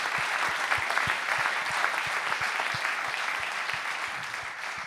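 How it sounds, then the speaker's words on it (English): An audience at a cycling team's official presentation applauds the riders and staff, a sustained wash of clapping with distinct nearby hand claps, steady and fairly loud, slowly easing. "we have also to make maybe a small applaud to the rider and the staff"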